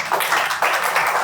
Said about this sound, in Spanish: Un aplauso nuevamente para el doctor Elfio Pérez y estos libros